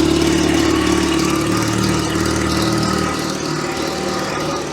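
An Invacar's small engine runs loud and close while driving, a constant buzzing drone like a lawn mower that eases slightly in level toward the end.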